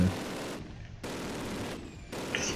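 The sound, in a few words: machine gun fire in Call of Duty video game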